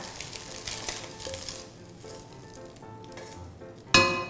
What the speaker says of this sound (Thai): ผัดไข่นะคะ แค่พอสุกค่ะ